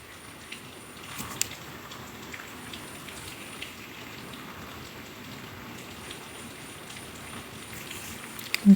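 Garlic, whole cumin and five-spice mix fry in oil with cut mango pieces, giving a soft, steady sizzle and crackle with occasional sharper pops, fairly faint and close.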